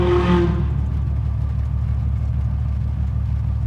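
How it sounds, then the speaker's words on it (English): A misfiring engine on a Volkswagen MK3 car rumbles at a steady low idle with a faint uneven throb. It is loud and close, and a brief higher whine fades out early on. No one speaks. "because this car is a Volkswagen, now it's misfiring"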